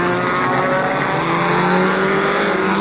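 A race car's exhaust roars loudly and continuously as the engine pitch climbs, with tire screech blended in, close and dense, with no voices, as the car launches from a starting line after a flag drop.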